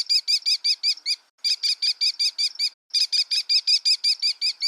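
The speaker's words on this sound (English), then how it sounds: "Let's listen to the sound the kestrel makes." A kestrel gives rapid series of sharp, high, repeated kee notes, loud and close, in three quick bursts separated by brief pauses.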